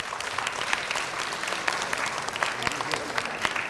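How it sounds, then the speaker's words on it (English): Steady, crackling applause fills a theater at a stage show about Chinese immigrant stories. The clapping from a large audience stays even and continuous, with no voices rising above it. "So give them a round of applause, please."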